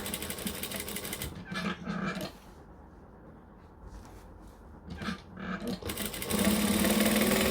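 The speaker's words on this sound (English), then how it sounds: "Me and my foot here are going to stitch the edges together." Sewing machine stitching the edges of fabric together, a steady close mechanical whir running in bursts, pausing for a few seconds in the middle, then resuming louder at the end.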